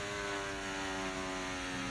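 A loud race car engine in F1 24 holds a steady, unbroken high-revving drone with strong tonal harmonics, close and continuous with no talk over it.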